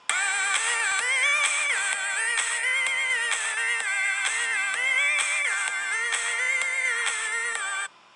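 A bright, funky synth lead built in NI Massive for big room house, its pitch bending and wobbling as a sustained, buzzy line runs steadily for about eight seconds, loud and alone before cutting off.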